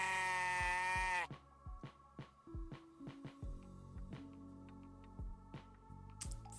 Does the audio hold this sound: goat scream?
yes